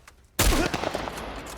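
Sudden burst of gunfire in The Last of Us multiplayer survival mode, a loud close volley of shots that breaks a near-silence and rolls on in a dense rattle, with no talk over it.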